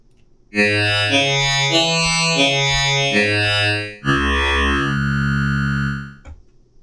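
A distorted synth bass on a Zero hybrid synthesizer plays a sequence of notes whose vowel-like, formant-sweeping tone makes it sound as if it were talking, ending with a long held note.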